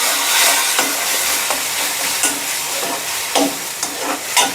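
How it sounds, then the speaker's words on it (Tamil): Tomatoes with salt and turmeric sauté in a pan, a loud continuous sizzle broken by regular scraping strokes of a spoon, close up with no voices. "சேர்த்துட்டு நல்லா வதக்கி விடுங்க."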